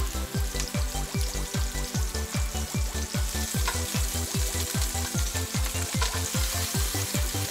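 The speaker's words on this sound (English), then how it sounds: "and then it's frying meatball time." Spaghetti meatballs sizzle and spit in a hot pan with garlic confit oil, with a steady rhythm of soft pops and taps repeating throughout, no talking.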